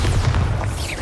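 The Bombarda explosion spell in Hogwarts Legacy goes off as a short, heavy boom with a dense low rumble that fills the whole moment.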